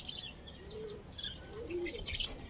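Soft, low pigeon coos repeat a few times in a loft amid faint chirps and light rustling, close but quiet.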